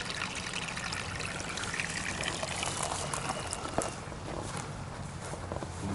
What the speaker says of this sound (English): I've got some filtration and water pump tubes that come through down the stream and it flows back to the pool